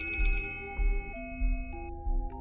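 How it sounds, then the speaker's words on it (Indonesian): A mobile phone in a trouser pocket rings for an incoming message, a bright electronic tone whose stepped pitches change a few times over two and a half seconds, set in a horror story on a mountain trail. "Terdengar dering handphone Panji berbunyi dari saku celananya, menandakan sebuah pesan baru saja masuk"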